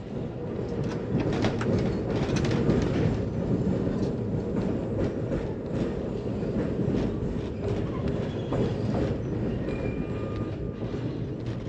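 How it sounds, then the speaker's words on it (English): Amtrak Superliner train reversing out of Chicago Union Station through the coach yard, a steady loud rumble of wheels and rail noise with faint clicking throughout, no voices. "While reversing out of Union Station, we pass through Amtrak's coach yard"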